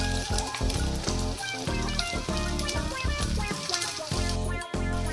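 Steady sizzling of potato filling for aloo patties frying gently on a low flame, continuous and close, with clinks of a utensil stirring through the pan.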